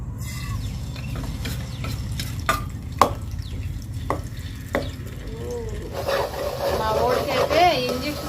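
A ground masala of ginger, garlic, onion and tomato fries and sizzles in a pan while being stirred. Sharp scraping strokes and clacks from a spoon mark the stirring, and a voice talks over it toward the end.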